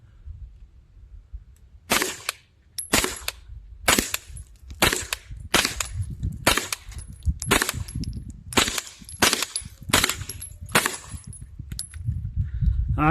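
A Scorpion pistol with a glued magazine fires subsonic rounds, about a dozen sharp, loud shots in an uneven rhythm with short pauses between them.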